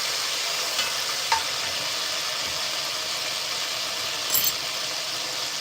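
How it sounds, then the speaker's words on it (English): Ginger and garlic sauté in a hot pan, giving a steady, even hiss that fills the whole stretch with only a couple of faint clicks and no voices. "It's already sauteing."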